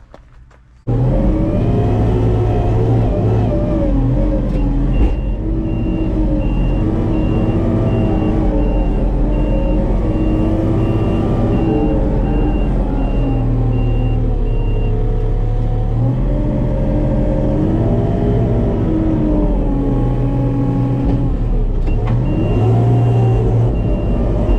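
A Kubota R430 wheel loader with a roughly 47.6 horsepower engine works steadily while loading a truck, its close, loud diesel drone rising and falling under load, with a repeating reversing beep running through.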